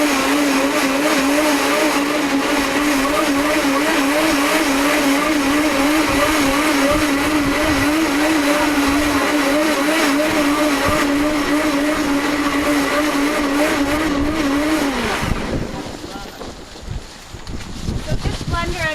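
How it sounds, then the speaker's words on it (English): High-speed Blendtec blender running continuously at full power, a loud steady whirring drone with wavering pitch as ingredients churn, then cutting off near the end into quieter background. "So this blender I'm using is a high-speed blender."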